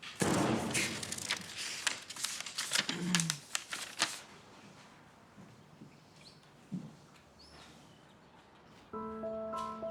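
A paper envelope is handled and torn open, with crisp rustles and tearing crackles packed into the first four seconds, then a few soft thumps and shuffles in a quiet room, and a faint tone at the end.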